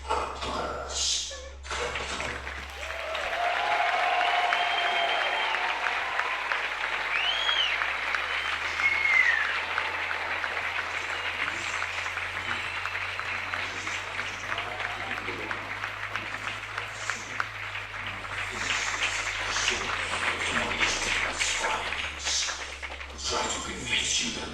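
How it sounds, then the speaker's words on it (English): A science lecture audience applauds for a Nobel Prize-winning physicist in a long, steady round of clapping that lasts nearly the whole time, with a few whistles and cheers mixed in. "For that, we should all give him a big applause."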